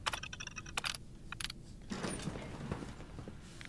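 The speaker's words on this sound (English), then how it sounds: "And let's open this door." Vault door in the Fallout 4 video game opening with metallic clanks and clicks followed by a longer grinding, rumbling mechanical movement, heard alone without talk.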